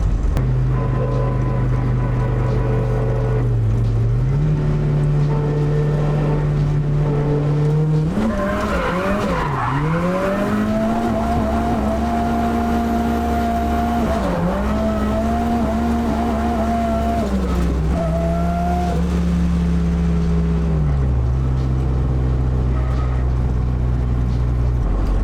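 Turbocharged Mazda Miata drift car with solid diff bushings revving hard through third gear, a loud sustained engine roar that climbs and shifts pitch, with tire squeal, close and alone without talk.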